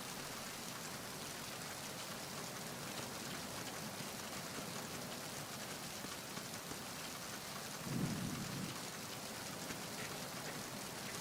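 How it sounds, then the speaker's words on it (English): Steady, dense rainfall in a video game hisses throughout, with a brief low rumble swelling near the end, like distant thunder under the downpour. "I thought the rain stopped."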